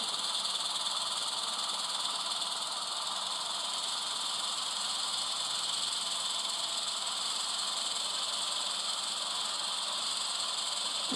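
An HO scale Rapido model train with DCC sound runs slowly at speed step 1, giving a faint, steady engine hum with a hissing wash, continuous and even throughout, with no talking.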